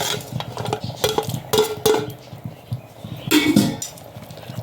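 Half-fried chicken is stirred into biryani in a metal pot, with repeated scraping and clanking of a ladle against the sides in uneven bursts, close and fairly loud.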